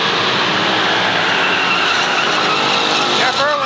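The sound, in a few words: stock car sliding sideways, tires skidding, at Waterford Speedbowl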